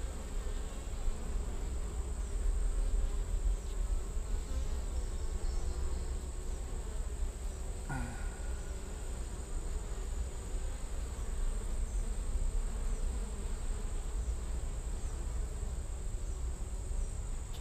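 Honeybees buzz steadily from a hive that fills the inner wall of an old barn, a continuous close drone with a brief faint knock partway through and no talking.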